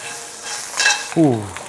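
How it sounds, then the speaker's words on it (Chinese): Long-armed humpback crab pieces searing in hot oil in an overheated wok, a quick rising hiss and spatter that swells loudly over a moment, ending with a short harmonic squeal. "螃蟹全部给它下锅煎一下"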